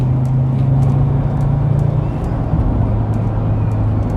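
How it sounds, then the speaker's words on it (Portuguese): Mercedes ML270 CDI W163 SUV with a 2.7-litre five-cylinder 163 hp diesel, driving with a loud steady low engine drone and road rumble heard from inside the cabin. "O som dos 5 cilindros é qualquer coisa."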